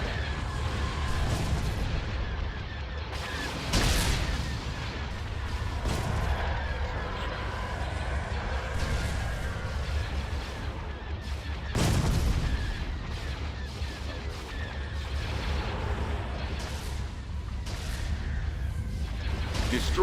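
Space battle in Star Wars: Empire at War (Thrawn's Revenge mod), with heavy booming starship weapons fire and explosions rolling continuously, louder bursts standing out over a dense, rumbling din.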